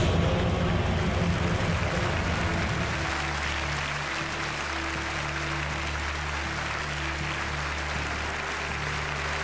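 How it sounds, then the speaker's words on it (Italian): An audience at the Miss Italia 2005 pageant final breaks into sustained, dense applause that fills the hall steadily, with a low background hum underneath. "Questo è l'applauso che Claudia vuole sentire"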